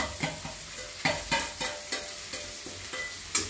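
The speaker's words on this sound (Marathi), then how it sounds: "कांदा चांगला परतला गेला ना थोडासा की मग त्याच्यामध्ये टोमॅटो टाकायचे आणि कोथिंबीर टाकायची।" Onion, tomato and coriander sizzle in a pan for puffed-rice chivda while a spoon stirs in quick, regular scrapes, each stroke a sharp rasp over the low crackle of frying.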